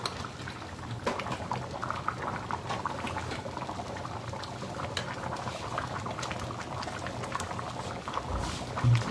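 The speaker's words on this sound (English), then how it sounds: "But I want to simmer this until it's much thicker." Japanese beef curry simmers in a pot, a steady close bubbling and popping of thick liquid, quiet and continuous with no talk.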